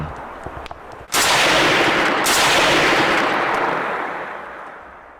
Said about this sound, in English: those gunshots are pretty loud